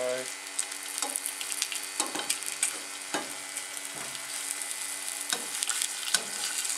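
Corn cooks over a wood-fired camping survival stove, a steady crackling sizzle with repeated scraping stirs at regular intervals, close and moderately loud.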